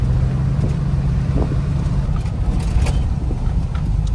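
A car drives through a canal-lined residential neighborhood in Arlington, Texas, giving a steady, close engine and road rumble with faint knocks and no talking.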